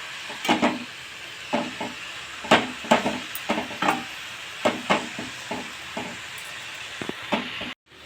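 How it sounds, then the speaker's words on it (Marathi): Fenugreek greens being stirred in a frying pan, a spoon scraping in irregular near strokes over a faint steady sizzle, with no talking. "भाजी हलवून घेते"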